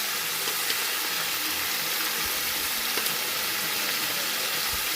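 Ground meat browns in a hot pan for Texas-style chili, giving a steady, dense sizzle and crackle that holds evenly throughout with small pops, with no voices over it.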